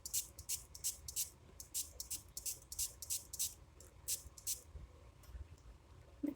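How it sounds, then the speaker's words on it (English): Spray bottle misting water onto a watercolor aqua brush, a series of short, crisp hissing spritzes in quick irregular bursts, close and fairly quiet, with no voices. "You are going to then again spray your brush."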